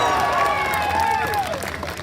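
A panel audience at SXSW applauds and cheers in a steady burst of clapping, with crowd noise and some babble mixed in.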